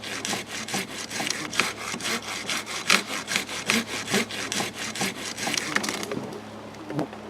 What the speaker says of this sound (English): And if not, we'll saw some more.